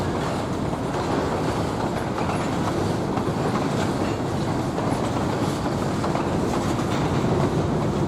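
MK50-3 locomotive train running along the old Rock Island line in Kansas, a steady rumbling roll with rhythmic wheel clatter on the rails, continuous and fairly close throughout, no voices.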